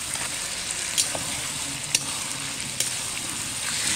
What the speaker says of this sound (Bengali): টমেটোটা গলে গেছে, এবার মাংসটা দিয়ে দিবি। তুই নাড়াবি কিন্তু। দিতে থাক, আমি নাড়াচ্ছি।